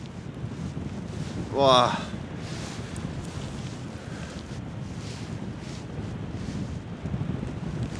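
Wind roars steadily across the microphone during a paragliding cross-country flight near Bassano, a constant broadband rush, with one brief spoken exclamation early on.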